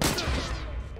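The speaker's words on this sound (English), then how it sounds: "Who the fuck shot at me?" Gunfire in The Last of Us Part II, a dense, loud burst of shots and crackling that fills the whole second with no break.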